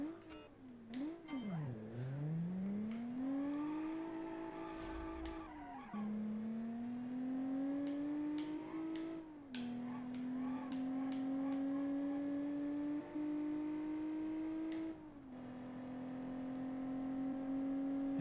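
A 1992 sports truck engine revs in the BeamNG driving game, a loud, sustained engine tone that dips and climbs through gear changes over about eighteen seconds.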